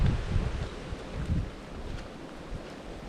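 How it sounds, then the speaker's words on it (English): Gusty wind rushes over a small campsite on a very wet day, rising and falling in low rumbling surges against the microphone with faint rustling behind. "very wet day, very wet and windy"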